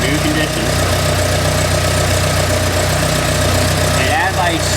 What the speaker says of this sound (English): right now I'm sitting at a pretty erratic idle. And you're going to hear the carburetors pop and suffer